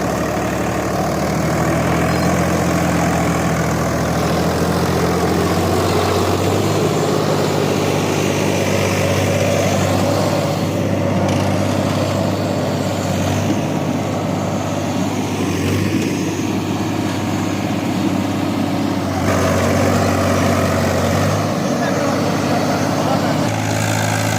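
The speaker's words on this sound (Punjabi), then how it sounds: "ਇਹ ਟਰੈਕਟਰ ਹੈ ਜੀ AKT 53 50 HPD ਕੈਟਾਗਰੀ" An Agriking AKT 53 tractor, a 50 HP model, runs continuously during a field demo, its low steady diesel drone and rumble holding throughout with people talking over it.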